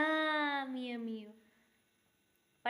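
A voice imitating a cat's meow, one drawn-out, falling cry lasting about a second, close and clear, followed by near silence and a sharp tap at the very end.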